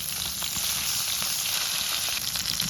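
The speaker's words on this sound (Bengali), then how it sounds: "মুখ মাছের এক কুল ভাজা হয়ে গেছে, এখন আর এক কুল ভাজার লাগি উল্টাই দিমু।" Pomfret fish sizzling in hot oil after being flipped to fry the other side, a continuous crackling fry held at an even level close by, with no talk.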